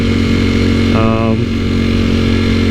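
An Italian superbike ridden through traffic holds a loud, close, steady droning engine note, rising briefly in pitch partway through as it revs.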